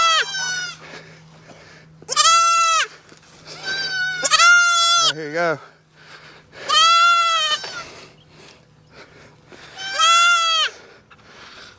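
Baby goat kids on a homestead bleating loudly and close, five or six long wavering cries spaced a couple of seconds apart, with a steady low hum underneath and a person speaking briefly between calls.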